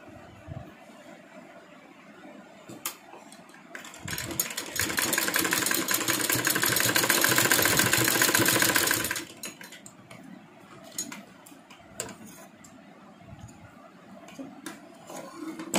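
Sewing machine stitching dori cord onto a garment sleeve, a steady whirring run lasting about five seconds in the middle, loud and close, framed by quieter handling noise before and after.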